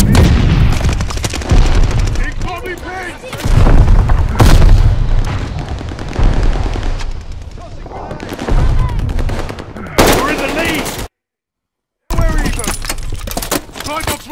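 Grenade blasts and heavy gunfire in Call of Duty Vanguard, played on PS5 with the Charlton automatic rifle, loud close bursts and booming explosions nearly nonstop, with a brief silent gap near the end and shouted voices over the fighting.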